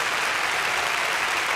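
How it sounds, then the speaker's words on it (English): Applause from a studio audience greeting a new show producer named Tim, a steady dense wash of clapping heard alone with no voices over it. "All of this applause is for you"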